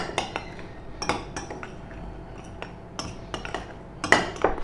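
Metal spoon clinking and scraping in a bowl while spices like paprika, pepper, cumin, curry powder and pink Himalayan salt are mixed, a series of quick irregular taps and stirs up close, without speech.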